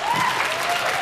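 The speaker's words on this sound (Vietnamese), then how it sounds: "Xin khán giả cho một tràng pháo tay nữa cho các bạn." Studio audience at a televised Vietnamese comedy show giving a burst of full, even applause, loud and dense throughout the short stretch, with a faint tonal line running underneath.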